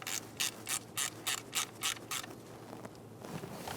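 Valve cover bolts on a 2008-2020 Dodge Grand Caravan being tightened with a ratchet: eight quick, evenly spaced clicking bursts up close, then a fainter scraping rub as the bolts bottom out.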